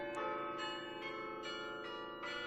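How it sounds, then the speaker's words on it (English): The 53-bell carillon of the Peace Tower rings out with a series of resonant struck bell tones, new strikes landing about every half second over long, overlapping decays, moderately distant with no voices. "The tower houses a 53-bell carillon."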